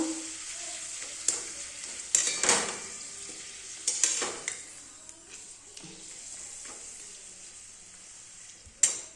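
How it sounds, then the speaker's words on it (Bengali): Papad frying in a pan, with a steady close sizzle broken by a few sharp crackles and scraping stirs, and no talking. "পাঁপড় ভাজাটাই তোমাদেরকে দেখাই"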